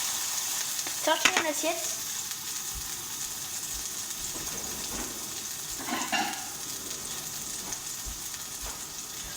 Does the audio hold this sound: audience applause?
no